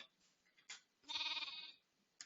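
A sheep in the Minecraft-like game Hungry World bleats once in a long wavering cry, preceded and followed by short soft bleats, close and clear with no talk.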